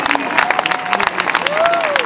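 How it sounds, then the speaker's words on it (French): An audience in Paris applauds at a commemoration event, a dense, loud round of clapping with crowd noise and voices mixed in throughout the short stretch. "Merci de leur faire un tonnerre d'applaudissements, s'il vous plaît"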